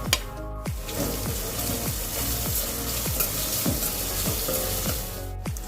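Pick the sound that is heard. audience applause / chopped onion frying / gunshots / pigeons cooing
chopped onion frying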